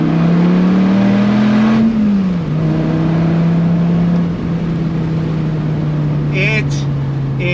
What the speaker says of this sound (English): I'm in a Dodge Viper ACR.